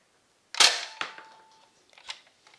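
A modified Nerf Strongarm blaster fires darts with a sharp snap, then a softer second click and a few faint mechanical ticks, close and alone without talk.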